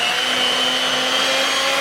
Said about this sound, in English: we're just going to blend these ingredients once more